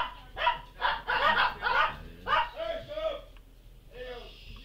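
A dog barks in the video game Gorilla Tag with a run of several loud, close barks and yips, then a softer whimpering trail.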